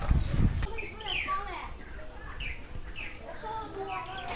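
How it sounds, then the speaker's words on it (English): Birds chirp and tweet in a series of quick, bright calls over a steady outdoor hum by a lake in Suzhou, China, with a brief low rumble at the start. "Even with all the chaos, you still have the nature, the birds chirping."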